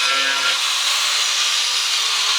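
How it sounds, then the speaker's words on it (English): An angle grinder with a tile-cutting bit slices along a tape line on tile, giving a steady, close, bright abrasive whine that holds without a break and carries no speech. "Now I'm going to grab my grinder and get ready to cut. So I'm going to carefully cut right along the tape line."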